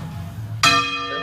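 Hand-rung church bell in the Ribera del Duero: a single bright, ringing strike cuts in over low background rumble and sustains with a slowly fading metallic tone.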